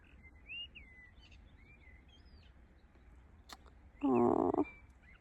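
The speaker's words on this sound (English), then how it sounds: "All the little birds have had me awake from about 3." Small birds singing around a wild camp at about 4 a.m., faint scattered chirps and whistles in a quiet outdoor setting, with a louder brief noise near the end.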